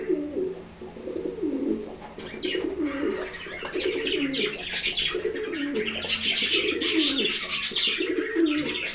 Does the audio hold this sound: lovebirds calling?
yes